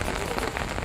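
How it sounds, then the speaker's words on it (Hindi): Heavy, steady rain pouring down in Shimla, a dense continuous hiss of drops drumming on surfaces, close and loud with no voices. "शिमला में रात से लगातार बारिश हो रही है"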